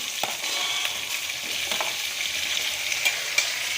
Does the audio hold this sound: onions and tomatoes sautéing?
yes